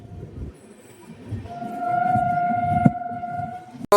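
A night passenger train from Chhayapuri to Dwarka rumbles along nearby, arriving at Viramgam, with a sustained metallic squeal rising over the rolling noise and a sharp loud burst at the end.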